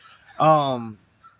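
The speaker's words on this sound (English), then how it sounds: "These crows are going crazy and the bugs are all out." A single crow gives one loud, harsh caw lasting about half a second outdoors beside a parked car, with quiet before and after.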